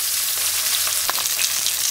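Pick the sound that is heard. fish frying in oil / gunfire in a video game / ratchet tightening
fish frying in oil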